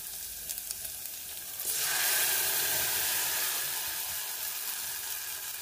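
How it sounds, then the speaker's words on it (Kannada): Ground tomato poured into a hot tempering for tomato rasam, setting off a sudden loud sizzle that swells after a quiet start and holds steady to the end. "ಇದಕ್ಕೆ ರುಬ್ಬಿಟ್ಟ ಟೊಮೆಟೊವನ್ನು ಹಾಕಿಬಿಡೋದು."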